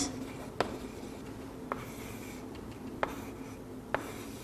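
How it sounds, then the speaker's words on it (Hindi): Marker or chalk strokes on a board during a biology lecture, with four short, sharp scratching bursts spaced about a second apart over a quiet room hum. "हम एक बार यहाँ पे वापस लिख देते हैं"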